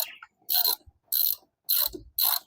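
A spanner ratchets on a monoshock bolt of a Qjmotor LTR 150 motorcycle, four sharp, close clicking bursts in a regular rhythm with short silences between.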